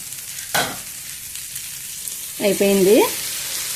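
Paneer tomato curry simmers in a pan with a steady soft sizzle, broken by a brief knock early on and a short rising tonal chirp near the end.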